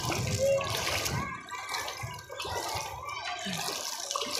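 Floodwater after heavy overnight rain sloshes and splashes inside a house in an Ahmedabad slum, close and continuous, with people talking over it.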